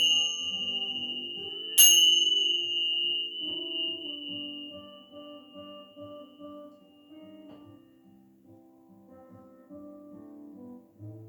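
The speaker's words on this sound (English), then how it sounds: "Let your mind, your body, and your soul absorb the vibrations of the bells" Meditation bells ring during a chair yoga session: one clear struck tone rings out and slowly fades, over a soft, sustained layer of lower bell tones.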